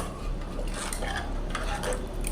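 A ladle stirs moong dal sambar in a metal pot, giving steady scraping and clinking of utensil against the pot's side, close and continuous for the whole span with no talk.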